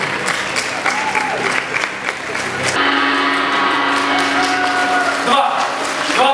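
An audience at the final of the Dnipro comedy league claps in steady, dense applause that fills the room, with a voice speaking over it.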